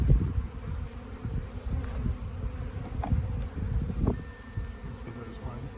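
Honey bees buzz in a dense, continuous drone while brood comb is cleaned off during a transfer from a top bar hive to a Langstroth hive, close up with faint handling noises.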